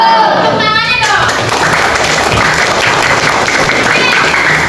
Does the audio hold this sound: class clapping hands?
yes